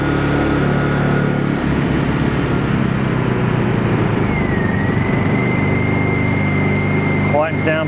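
Honda portable generator engine running close and loud, a steady drone that changes pitch partway through as the economy throttle engages, with someone briefly speaking over it.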